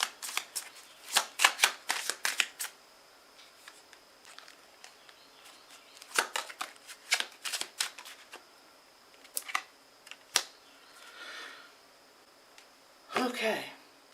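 Tarot cards are drawn and shuffled in a series of crisp snaps and flicking riffles, grouped in bursts with quiet pauses between, heard up close.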